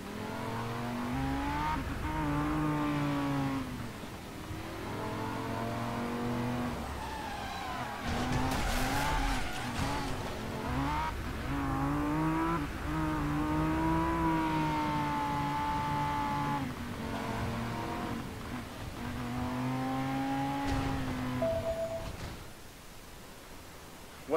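A car in the racing game Driver San Francisco, its engine revving and shifting through gears with tire squeals and skids, steady and loud throughout with no speech.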